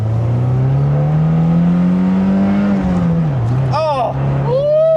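A Fiat 124 engine revs hard under full acceleration, its loud, close drone climbing steadily in pitch and then dropping briefly as a gear shift comes in before it pulls on again.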